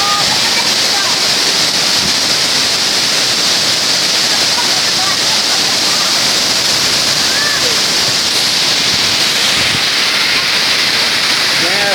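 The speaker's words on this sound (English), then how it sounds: "This is the first step of the Kale Waterfall." Kale Waterfall's first step pours in a steady, loud, broadband rush of falling water that holds continuously from start to finish, with no pauses or distinct splashes breaking through.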